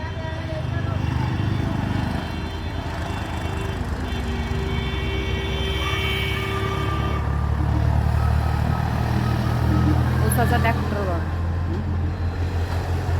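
A low, steady tractor engine drone runs throughout, rumbling nearby on a farm during machine wheat harvesting, with other mechanical noise layered over it.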